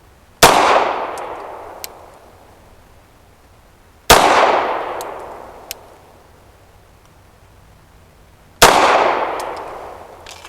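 A Tisas B9R 1911 Carry DS pistol firing 124 grain ZQI ammunition: three loud, sharp shots spaced about four seconds apart, each ringing out with a long reverberant decay, with faint metallic clinks between them.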